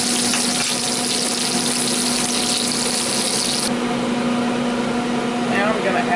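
Pork chops frying in olive oil in a cast iron pan give a steady, close, crackling sizzle with a constant hum underneath, continuous for the whole stretch.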